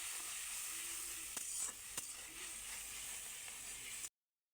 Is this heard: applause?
no